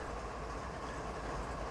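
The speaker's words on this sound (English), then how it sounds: "A train of empty coal cars." A video-game train of empty coal cars rolls through a Canadian mountain pass, giving a continuous, even rumble and faint clatter of wheels on rails.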